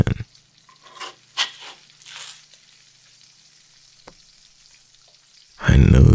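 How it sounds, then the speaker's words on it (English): Batter-based pancake frying in a breakfast pan gives a faint crackle with a few soft scrapes and taps, then a loud close burst of sizzling near the end. "But that pancake is meant to get burnt. So let me get it out of the pan."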